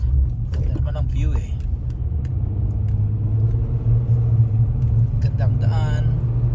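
A car drives along a road in San Diego on Christmas morning with a steady low cabin rumble throughout, while someone talks over it.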